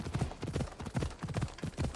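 Horse hooves clip-clop in Assassin's Creed Odyssey, a steady trotting rhythm of close, thudding beats repeating evenly throughout the short stretch.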